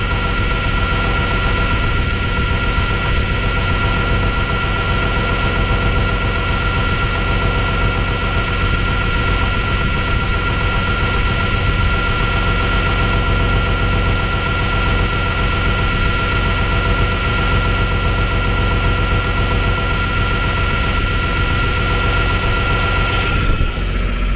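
A farm tractor's engine idles steadily, a continuous heavy drone with a constant whine running through it, close and loud without change for the whole stretch, with no one speaking.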